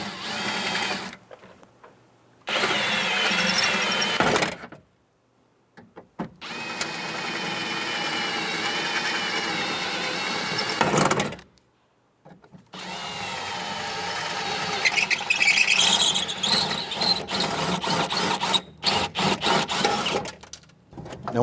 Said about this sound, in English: Go ahead and drill these out.